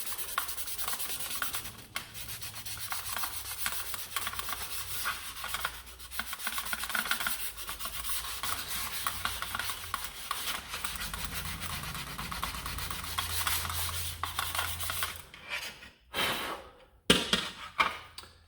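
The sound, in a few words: hand sanding paint off a part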